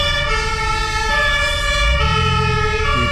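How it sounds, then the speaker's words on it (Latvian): A loud emergency vehicle siren wails continuously and close by, with its tone sweeping and shifting over low road rumble. "Pēc kādas sirēnas"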